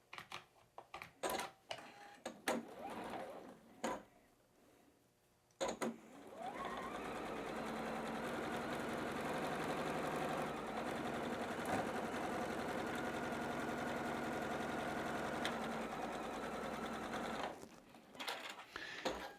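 A sewing machine stitches two rectangles onto a quilt block, running in a long, steady, close whir for about eleven seconds, with a few short clicks and taps before and after.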